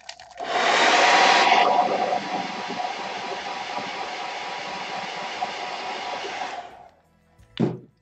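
A hair dryer blasting over a wet watercolour mountain landscape, starting loud with a harsh airy roar, then settling to a steady, slightly lower whoosh for several seconds before switching off, followed by a short thump.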